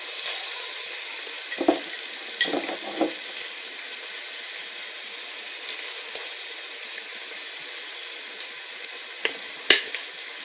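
Frozen peas sizzle softly in a pan with cumin powder, broken by a few scraping stirs and clinks of a utensil, fairly quiet and with no talk.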